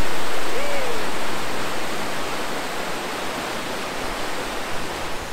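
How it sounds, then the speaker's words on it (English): A rain-swollen river rushes in full force as a loud, steady roar of water that fills everything without pause, with a faint whistling tone briefly early on. "This river's in full force right now."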